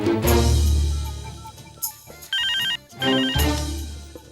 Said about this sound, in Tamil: போன் அடிச்சிட வேண்டியதான்